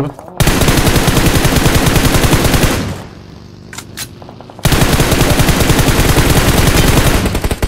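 Loud, close automatic gunfire in a video game: a long rapid burst, a brief pause with a few scattered clicks, then another sustained burst.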